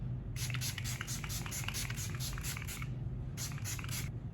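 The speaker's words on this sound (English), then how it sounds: "So now I'm gonna go in with the Too Faced Hangover Setting Spray." Too Faced Hangover setting spray hisses in a rapid series of short pumped mists close by, a long run of spritzes followed by a brief pause and a few more.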